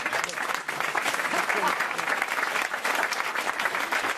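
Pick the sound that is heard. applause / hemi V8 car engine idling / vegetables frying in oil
applause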